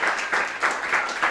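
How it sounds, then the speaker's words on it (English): An audience applauds after a presentation at an accessibility and AI event, a steady wash of clapping that swells in soft rhythmic waves over about a second and a half, with no voices on top. "let's give Sandy, Keith, and Ron another round of applause for fantastic presentation."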